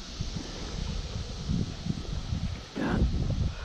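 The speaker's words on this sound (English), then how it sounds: "Can't do nothing with the wind blowing me all over the place." Steady outdoor wind buffets and rustles around a microphone while fishing in a backwater area at a local park, a continuous broadband rush with a louder gust near the end, no talking.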